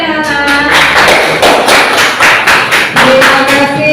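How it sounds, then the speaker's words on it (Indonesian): Children applauding in a classroom, loud close rhythmic clapping in quick regular beats, with a brief adult voice at the start. "Tepuk tangannya anak-anak."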